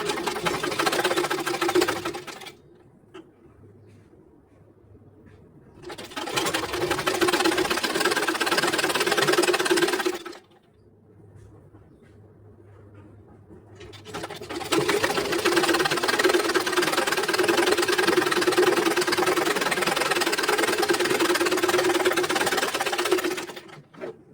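A sewing machine stitches the front side of a blouse in three sustained runs, the last and longest lasting about ten seconds, with short quiet pauses between, close and steady.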